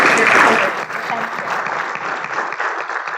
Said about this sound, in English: So just really big round of applause